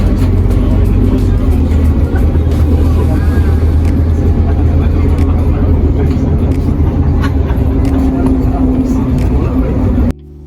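Interior of a bus travelling through Singapore toward Sentosa Island, a steady low engine drone and road rumble running for the whole stretch, with no talk in the clip.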